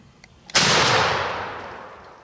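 A single loud gunshot fired at a turkey during a spring gobbler hunt, a sharp blast followed by a long rolling echo that fades slowly over about two seconds.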